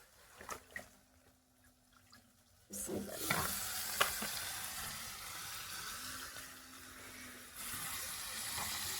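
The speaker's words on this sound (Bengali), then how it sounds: "এখন মাংসগুলো দেবো আর কি।" After a few quiet seconds, broiler chicken neck and liver pieces hit frying spice paste with a sudden loud sizzle, which settles into continuous hissing and crackling with occasional stirring scrapes.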